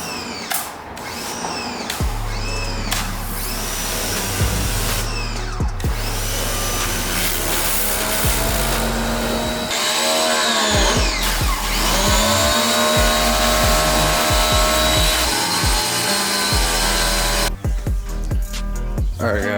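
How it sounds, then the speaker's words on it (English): A pressure washer runs loudly nearby in a home garage, its motor droning steadily with brief drops and restarts as the trigger is released and squeezed again. "Pressure washer."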